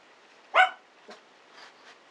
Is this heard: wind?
no